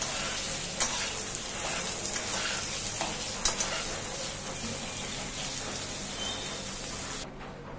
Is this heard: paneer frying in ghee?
yes